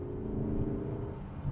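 Porsche Cayenne Turbo S engine rumbling low through downshifts, a steady deep drone with a brief steadier tone that drops away, heard close with no talking.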